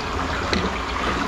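A short, soft trickle of excess water draining out of a fish box, steady and faint, with a brief splashy burst midway.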